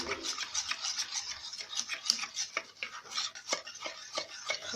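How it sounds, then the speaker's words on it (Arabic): Cream being mixed in a bowl for a dessert, heard as quick, close scraping and rubbing strokes of a utensil against the bowl in an uneven rhythm, with no voices. "وغادي نخلط"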